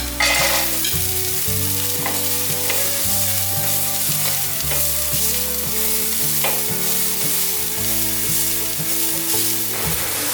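Carrots with minced ginger stir-fried in a hot pan, a steady close sizzle with scraping spatula strokes, heard alongside continuous background music with no talking.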